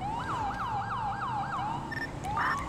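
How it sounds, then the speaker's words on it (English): A standard LSPD police siren in a video game, a rapid wailing yelp repeating in quick sweeps and then shifting to a higher tone, loud and close. "we are using the standard LSPD siren I'd like to start using for this one, since it is like the LAPD type siren"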